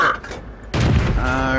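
A tank cannon shot in a tank video game that fails to penetrate enemy armor: a sudden heavy boom with a ringing, metallic clang that lingers and resonates afterward, loud and close.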